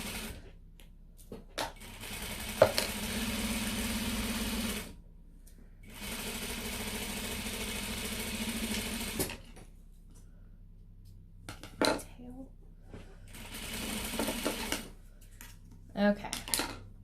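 A sewing machine stitches a card slot piece for a clutch wallet in two sustained whirring runs of a few seconds each, separated by pauses, with a person talking around the stitching.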